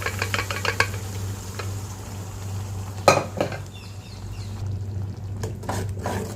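A spoon stirs onions and pulicha keerai greens in a pan, giving clinking metal taps and scrapes at the start and again midway, over a low steady hum and a soft background sizzle.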